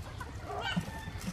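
A chicken gives a couple of soft, short clucks over faint background noise.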